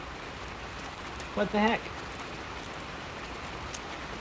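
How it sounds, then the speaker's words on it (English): Rain beginning to fall outdoors, a steady soft hiss of drops on surfaces, with a brief spoken exclamation cutting in partway through. "Now it wants to start raining."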